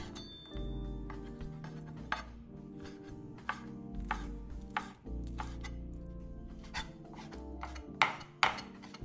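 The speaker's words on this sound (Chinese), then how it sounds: "处理干净后切成丁" A knife chops peeled, deveined shrimp into small dice on a board, with uneven quick taps and a few sharper knocks over steady background music.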